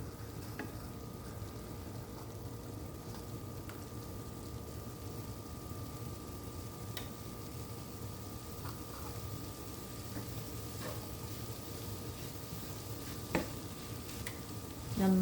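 Aval snack with cardamom powder is stirred in a pan, a faint steady sizzle and low hum running throughout, with occasional light ticks and scrapes of the spoon, quiet and close.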